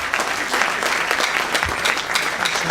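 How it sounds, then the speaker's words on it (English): An audience at an Afghan cultural event applauds steadily, a dense and continuous clatter of many hands that holds at an even level throughout. "Give a round of applause."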